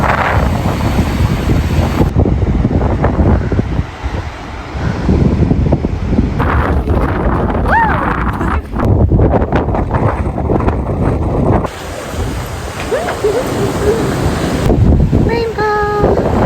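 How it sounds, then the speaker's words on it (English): Ocean surf with high waves under heavy wind buffeting the microphone, a loud continuous roar of crashing water and gusts from start to finish. "The ocean is so scary. Those waves are so high."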